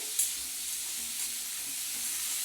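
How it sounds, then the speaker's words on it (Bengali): Oil poured into a hot pan for a dal sizzles in a soft, even hiss with one small tap near the start, fairly quiet and close. "এর মধ্যে আরেকটু তেল দিতে হবে তেলও দিয়ে দিচ্ছি"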